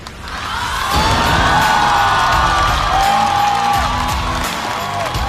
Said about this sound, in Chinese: 我们掌声有请嘉宾出场